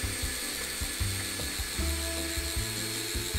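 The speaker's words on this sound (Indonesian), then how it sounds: "Kita akan coba mengebor menembus kayu dengan menggunakan cordless" A Doliz BD637 brushless cordless drill boring through wood, a loud whirring motor with rhythmic bogging and surging as the bit bites, continuous and close with no voices.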